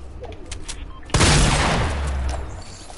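A loud burst of Fortnite shotgun fire erupts after a quieter stretch of game ambience, followed by a long booming decay and scattered crackles, close and dominant with no talk.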